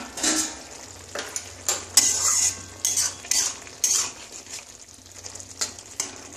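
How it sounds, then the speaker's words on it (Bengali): A metal lid is lifted off a pot of simmering Amudi fish curry, followed by clinking of utensils against the pot and soft bubbling, with a series of close, bright metallic scrapes and taps. "ঢাকাটা খুলছি।"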